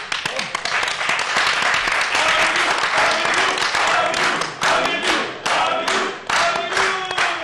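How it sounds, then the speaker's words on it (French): A comedy show audience applauding loudly and steadily, dense clapping from many hands with a few shouts, filling the whole stretch and easing briefly near the end. "on applaudit très fort pour le monsieur de Nescafé"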